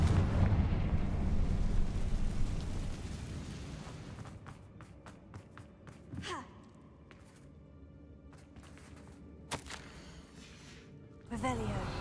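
A Confringo fire-blast spell detonates in Hogwarts Legacy, a broad roaring blast that fades into rumbling debris, followed by scattered sharp pops and a second burst near the end, with a voice speaking over it.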